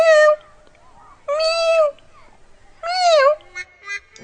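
A boy imitates a cat with his voice, giving three drawn-out, wavering meows with short quiet gaps between them, then a couple of shorter trailing cries, close and clear with nothing else heard.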